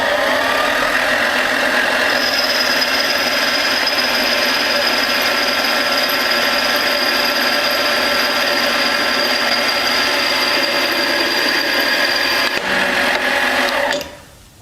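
A cheap 7x14 mini-lathe cuts metal under power feed, whining loudly and continuously with a steady high tone, then something catches near the end and the machine winds down.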